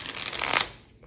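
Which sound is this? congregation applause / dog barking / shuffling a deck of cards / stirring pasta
shuffling a deck of cards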